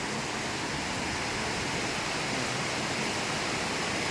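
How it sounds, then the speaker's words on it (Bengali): Heavy monsoon rain pours down during flooding in Kerala as a steady, dense, unbroken hiss, loud and constant throughout, with no voices. "এত বৃষ্টি এত বৃষ্টি প্রচুর ধরনের বৃষ্টি হচ্ছে"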